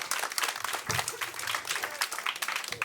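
Comedy club audience applause for the host returning to the stage, a brief burst of scattered clapping and cheering from a small room crowd, close and lively.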